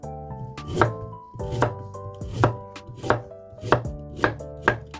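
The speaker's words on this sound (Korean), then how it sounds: "당근은 얇게 쓸게요" Knife slicing a carrot thinly on a cutting board, a close series of crisp rhythmic chops at an even, brisk pace with no talking.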